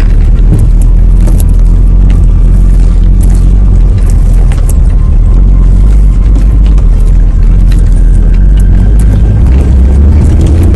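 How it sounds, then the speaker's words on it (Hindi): A car jolting and bouncing along the rough gravel Gilgit–Skardu road in northern Pakistan, a steady low engine and road rumble with scattered knocks and rattles, loud and continuous without talk. "जिस पे आपकी गाड़ी जो है वो अचकोले खाते हुए जाती है।"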